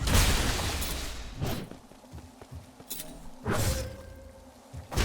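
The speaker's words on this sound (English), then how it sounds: "That's a neat explosion." An explosion in the video game Nine Sols: a loud broadband blast at the start that decays, followed by scattered thuds and another burst near the end, with no talking.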